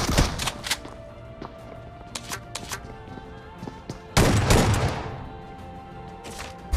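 Shotgun fire in the BGMI/PUBG mobile battle royale, with a series of sharp gunshots scattered across the moment and one heavier, louder blast with rumbling tail partway through.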